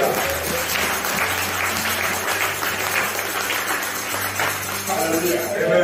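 A church congregation claps in sustained, steady applause, the sound filling the room under low musical tones.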